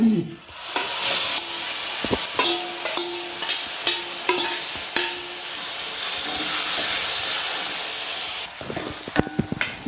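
Onions sautéing with chili powder in a pan for citron pachadi, a constant frying sizzle punctuated by sharp scraping and clinking strokes of a spatula stirring against the metal.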